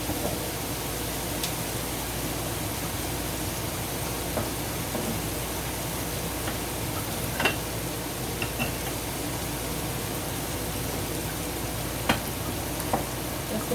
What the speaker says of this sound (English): So that's sauteing right now,